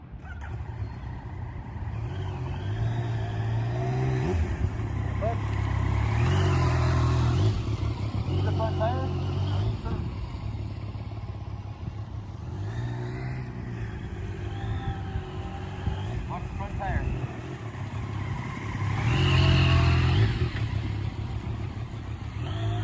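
Motorcycle riding and turning while demonstrating a rolling sharp turn, its engine a steady low rumble throughout that swells and revs at a couple of points, with someone talking over it.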